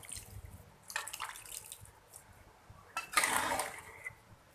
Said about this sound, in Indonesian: Sekarang tinggal kita tuangin santannya